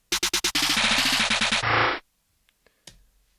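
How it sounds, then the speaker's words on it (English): Rapid snare roll from a trap beat built in FL Studio: four quick separate hits, then a fast dense burst that holds and cuts off, followed by a few faint ticks in near silence. "last but not least here, we have this snare roll"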